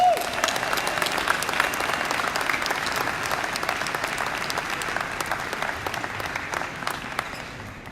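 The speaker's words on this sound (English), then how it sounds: "Let's do a giant round of applause for Eliot and Dave." A conference audience breaks into sustained applause, a dense wash of many hands clapping at once, loud at the start and easing slightly over eight seconds, with no speech heard.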